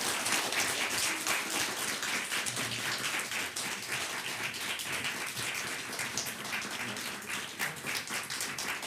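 An audience at a stage talk-concert festival claps to welcome guests onto the stage, a dense, steady patter of many hands that stays fairly even for the whole stretch, heard from within the hall without voices.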